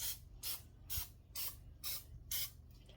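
Five or six short, sharp bursts of cooking oil spray into a muffin tin in a steady rhythm, close and fairly loud, with brief pauses between them.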